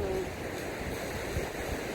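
Sea waves and gusting wind at a beach during a storm, a continuous broad rush of surf and blowing air that stays steady and fairly close throughout.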